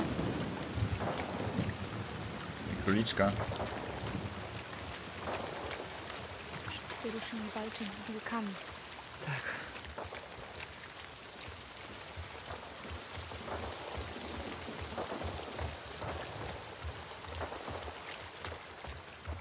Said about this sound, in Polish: Okej, mamy burzę.